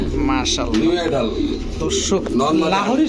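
Lahori pigeons, full jet black European Lahori birds at a pigeon market, coo and call repeatedly close by while someone talks steadily over them amid background market noise.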